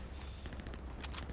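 Gunfire in the World War II shooter Hell Let Loose, with dense overlapping shots and bursts from a fixed machine gun over a heavy low rumble, sustained and loud throughout, with sharper cracks near the end.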